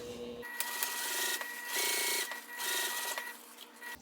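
A sewing machine runs top stitching along the lining of a sling bag, a steady, close mechanical whir that pauses briefly a few times and then starts again.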